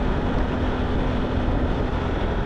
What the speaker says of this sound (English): the engine has that same rumble as